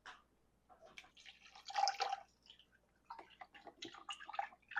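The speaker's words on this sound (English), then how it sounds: "I'm just going to pour this over around the roast." Chicken broth is poured around a pork roast inside an Instant Pot, giving soft, irregular trickles and drips that come in two faint bursts with a short quiet gap between them.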